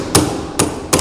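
Three sharp hammer blows tap a plastic hubcap onto a Radio Flyer plastic wagon front wheel, close and distinct, spaced about half a second apart.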